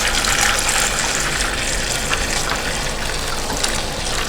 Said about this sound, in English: So we're going to take our stock and slowly pour it through the cheesecloth